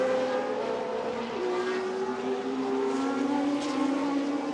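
Vintage race cars at the Monterey Motorsports Reunion roar past at a distance, a layered engine drone with rising and falling pitch as several cars race in a pack.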